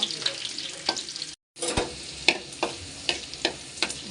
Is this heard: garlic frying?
yes